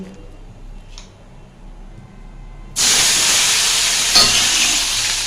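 Tomatoes dropped into hot spiced oil with nigella seeds and dried red chillies, setting off a sudden loud hissing sizzle that holds steady after a quiet start, with one brief clatter partway through.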